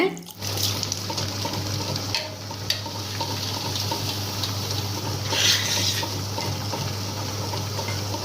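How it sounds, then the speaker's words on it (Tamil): Water pouring and splashing into a vessel to soak washed flattened rice (aval) for sorghum idli, a steady running trickle with a low hum beneath, close and moderately loud. "1/2 டம்ளர் தண்ணி விட்டு ஊற வச்சிருங்க"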